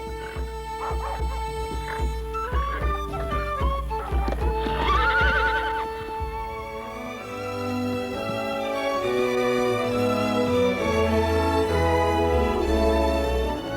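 Irish horses used for riding across fields and farms to the hounds give a whinny and a few hoof clops early on, mixed under steady, prominent background music.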